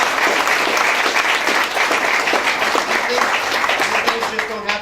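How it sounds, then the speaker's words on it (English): Steady, dense applause from an audience at a college workforce open house, loud and continuous across the whole stretch with no one speaking over it. "Can we please give them a round of applause?"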